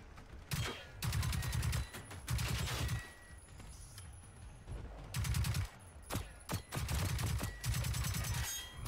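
A Kpist submachine gun in Generation Zero fires in several rapid bursts of sharp shots, each lasting about a second, separated by short pauses.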